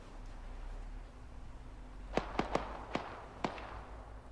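Distant artillery in the Arma 3 military shooter, several sharp muffled booms landing at irregular intervals over a quiet low hum of background ambience.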